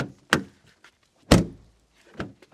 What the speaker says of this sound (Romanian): Ușa e mult mai grea la Elantra. Bam!